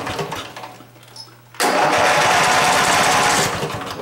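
A 12.5 hp Vanguard small engine starts up abruptly after a quiet pause, then runs loud and steady with a rough, even drone that eases slightly toward the end.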